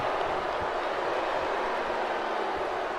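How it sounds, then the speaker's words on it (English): A WWE 2K19 video game arena crowd boos in a steady, dense wash of noise, loud and continuous with no commentary over it. "Crowd avidly booing the Ascension right now."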